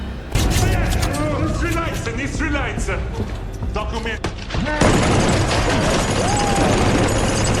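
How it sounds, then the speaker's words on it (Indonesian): Gunfire from an action scene in a film as guards are shot down, dense volleys and booms packed under loud music and dialogue, with a sharp cut to an even denser burst midway. "Hooper menembak habis para penjaga itu."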